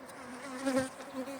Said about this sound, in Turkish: Arı geldi biliyor musunuz?